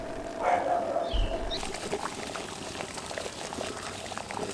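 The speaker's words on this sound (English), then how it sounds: "There you are, it's boiling." Water rolling at a steady boil in a Kelly Kettle Trekker camp kettle, a constant bubbling hiss with no break, with a couple of faint bird chirps early on.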